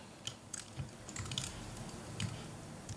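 Computer keyboard keys tapped for shortcuts while working in Adobe Illustrator, a handful of quiet, irregular clicks spread across a few seconds with no talking.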